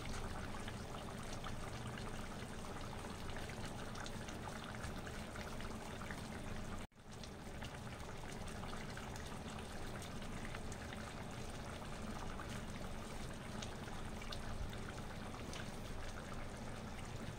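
Boal fish kalia curry with halved green chillies simmering in a pan, a continuous close bubbling and hissing texture with one abrupt brief cut partway through, no talking.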